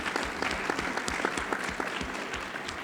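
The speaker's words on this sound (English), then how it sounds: "Let's give a round of applause." A conference audience claps in a round of applause, the individual claps clearly audible in a brisk, uneven rhythm, moderately loud and steady with no voices over it.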